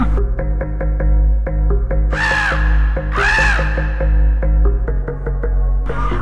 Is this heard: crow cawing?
yes